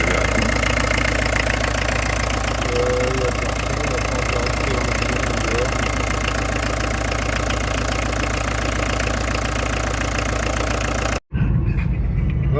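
A car engine runs on the road after four years sitting in a field, a loud continuous drone with road and cabin rumble throughout, briefly cutting out near the end.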